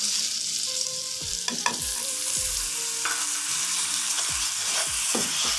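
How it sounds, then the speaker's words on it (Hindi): Semolina for paneer halwa, with cardamom and sugar added, is roasted and stirred in a pan, giving a low steady sizzle under repeated scraping strokes and soft spoon knocks at a relaxed rhythm, close up, with no talking. "थोड़ी देर हम इसको इस तरीके से भून लेंगे"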